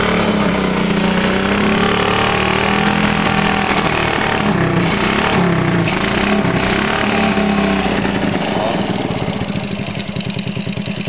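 A misfiring 110 motorcycle engine with a faulty carburetor runs loud and close, its rough, uneven chug stumbling irregularly before settling into a faster pulsing idle near the end.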